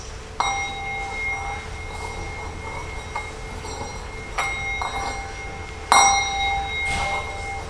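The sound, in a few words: bell rung for worship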